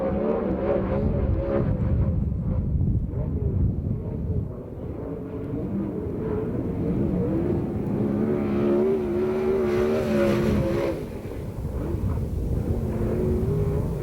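A USAC/CRA sprint car roars through a qualifying lap at Perris, its engine tone climbing and dipping as it goes around the oval, loud and continuous with little talk.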